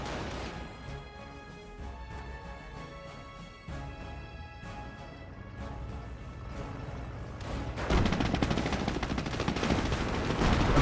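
Infantry rifle and machine-gun fire in the Company of Heroes strategy game, a steady crackle of shots over a background of game music that swells into denser, louder firing toward the end.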